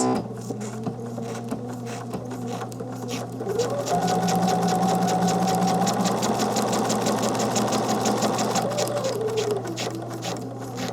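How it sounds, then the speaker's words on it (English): A sewing machine stitches around a box beside a zipper on a pillow, close and continuous, its fast needle rattle speeding up through the middle and then easing off, over a steady motor hum. "So we're going to just start sewing around that box."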